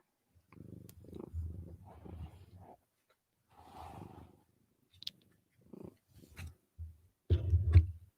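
A house cat purrs close up in soft, rumbling bursts broken by short pauses, with a louder stretch near the end and no talking.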